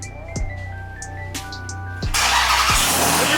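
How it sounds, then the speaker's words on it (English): A Ram TRX pickup fitted with a JMB intake cranks over with a few starter whirs, then fires and settles into a loud, steady, roaring idle close by. "Lito, he's starting the truck"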